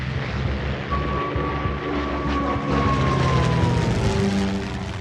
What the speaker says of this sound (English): In just 30 minutes, these planes will be over the Kent coast.